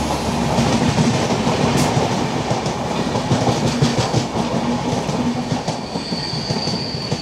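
The Rajdhani Express rolls past on the single-line Konkan Railway near Pernem station, a loud, close, continuous rumble of rolling wheels with rhythmic clickety-clack and a faint squeal.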